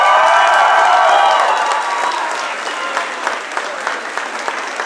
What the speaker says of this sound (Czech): Prosím, potlesk.